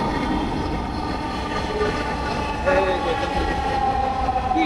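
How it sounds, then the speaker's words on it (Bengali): A steady, loud rumble of a Dhaka metro train fills the clip, with a rising whine and mechanical hum as it rolls into the station. "আমাদের ট্রেন কিন্তু আসতেছে ভাই"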